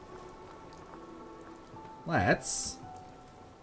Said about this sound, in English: pouring rain